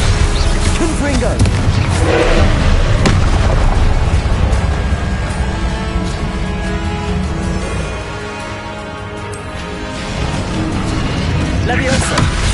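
Spell blasts from the Confringo fire curse in the Hogwarts Legacy game, a dense wash of booming impacts and rumbling under game music, with a dip in loudness midway before the bursts pick up again; a voice calls spells over it.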